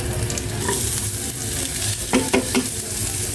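Garlic and onion sautéing in a pan for sarciadong tilapia, a loud continuous sizzle with a couple of brief stirring scrapes near the end, close, no talking.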